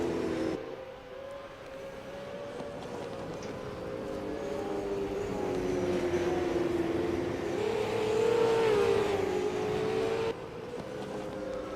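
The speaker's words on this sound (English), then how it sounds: "So we're underway for qualifying. I believe Brapp's the first car out there" Race car engine at Sydney Super 2 qualifying, a single car droning steadily and rising in pitch as it accelerates, loud and continuous for about ten seconds, then briefly cutting off near the end.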